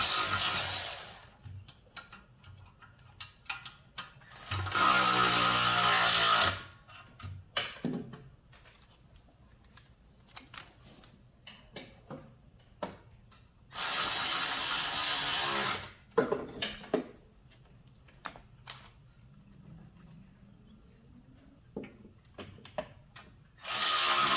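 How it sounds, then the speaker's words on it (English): Cylinder head nuts with lock washers being tightened on a Wright mower, with bursts of ratcheting and power-tool whirring separated by quieter clicks and clanks of hand work, close by, no speech. "Once all 4 nuts and lock washers have been installed, tighten them all down."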